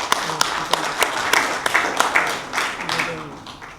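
Audience at a Korean peace and unification symposium gathering clapping to welcome a co-leader, a few seconds of close, lively applause with sharp individual claps and some voices mixed in.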